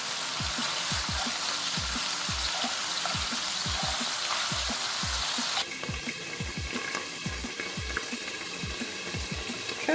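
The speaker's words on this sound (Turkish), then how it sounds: "Şimdi köftelerimin diğer tarafını çeviriyorum." Hamburger meatballs sizzle in a pan with a steady, close hiss and a regular series of soft low pops; partway through, the crackle turns noticeably duller and quieter, as when a lid goes on.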